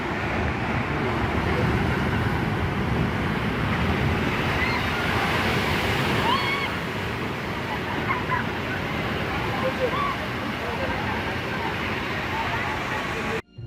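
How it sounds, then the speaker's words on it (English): Steady roar of ocean surf at Digha Beach, India, rolling and crashing continuously, loud and close, with wind rushing over it and indistinct voices faintly mixed in. "Several people were enjoying the sound of waves crashing against each other"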